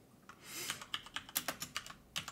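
Someone types a spreadsheet tracking list on a computer keyboard at an ink testing station at a pen show. The keystrokes come as close, crisp clicks in uneven bursts, with a brief soft swell early on and no talking.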